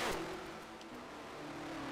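A 1974 USAC race car engine on a crippled car after a spin at Trenton, in a racing game, drones with a steady mid-pitched hum and a brief rev at the start, heard faintly at a distance.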